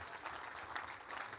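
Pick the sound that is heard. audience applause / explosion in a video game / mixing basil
audience applause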